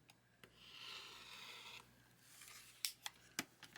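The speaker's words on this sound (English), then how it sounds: "You can cut this with scissors too if you want." Scissors cutting quilt fabric for a pieced pinwheel block, a soft hiss of fabric followed by a few sharp, close snips near the end, quiet and without speech.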